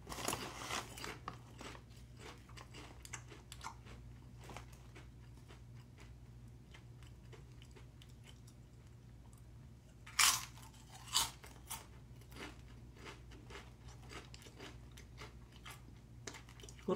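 Spicy snack chips being crunched close up, with a couple of sharp, loud bites standing out near the middle against a quiet room hum and softer chewing elsewhere; no talking.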